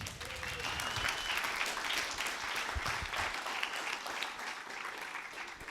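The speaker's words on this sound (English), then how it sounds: "Let's have another round of applause for Gwyllm." An audience at a talk on psychedelic dreamwork applauds, steady, moderately loud clapping that continues through the whole stretch with a few faint voices underneath.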